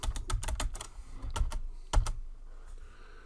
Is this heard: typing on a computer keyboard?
yes